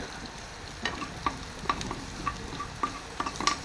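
Garlic frying in a pan while making macaroni, with a low steady sizzle under repeated sharp clinks and scrapes of a spoon stirring against the pan, close and moderately loud.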